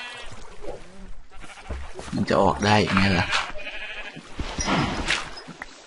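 Minecraft sheep bleat several times in a row in the block-building game, loud and close, while someone talks excitedly over and between the calls.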